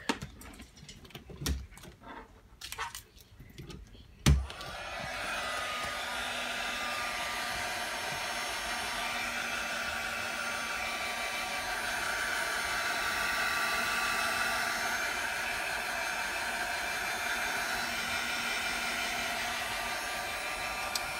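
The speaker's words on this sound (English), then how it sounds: "I have an embossing tool that we can use to dry this real quick." An embossing heat tool blowing to dry chalk paste, preceded by a few handling clicks and knocks, then a steady loud whooshing hum of airflow that runs without a break to the end.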